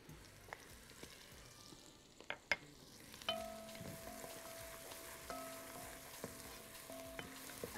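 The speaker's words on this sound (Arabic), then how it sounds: "اخلي البصله تحمر كويس" Chopped onion frying in a pan, a steady soft sizzle with scattered pops and repeated clinks of a spoon stirring, close by and fairly quiet, no speech.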